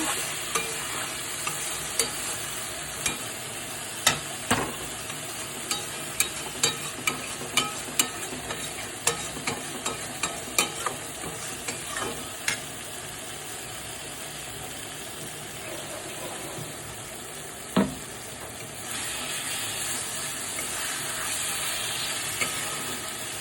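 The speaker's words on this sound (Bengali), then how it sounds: "মাছের সাথে মশলাগুলো একটু কষে নেব" Katla fish frying with spices in a pan for kalia, a dense continuous sizzle with frequent quick clicks and scrapes of stirring, close and loud, then one hard knock and a slightly louder hiss near the end, no voices.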